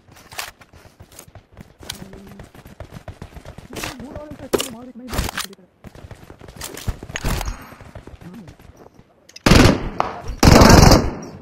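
Automatic gunfire in a squad battle royale game, loud bursts and rapid fire especially heavy near the end, with players talking over parts of it.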